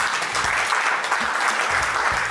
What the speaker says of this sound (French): Merci d'applaudir pour sa présence.